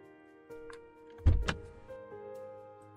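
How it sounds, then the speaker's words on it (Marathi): A car's rear door opens with two sharp, close clunks in quick succession, set against a low steady hum and faint sustained tones. "त्याने जाऊन पाठीमागचा दरवाजा उघडला."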